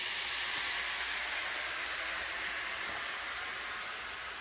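Low-sodium chicken broth and dry Sauvignon Blanc hit a hot pan with skirt steak, giving a loud, steady, close hiss and sizzle that holds without a break, with no voices.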